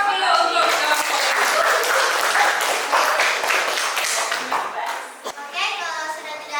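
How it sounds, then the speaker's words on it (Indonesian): A classroom group of children applauding group 1, clapping loud and sustained with excited young voices chattering throughout, tapering off near the end. "berikan aplaus dulu untuk kelompok 1"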